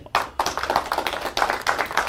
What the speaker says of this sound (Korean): 한번 박수를 좀 보내주세요